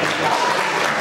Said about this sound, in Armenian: թող ծափերը լինեն ուժգին, որովհետև արժանի են